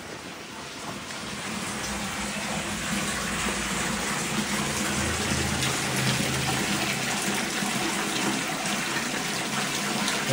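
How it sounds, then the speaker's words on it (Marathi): Hot spring water gushes steadily from the ground at Chumathang in Ladakh, making a loud, continuous broadband rush with no pauses across the whole clip. "हे बघा इथून गरम पाणी निघतोय"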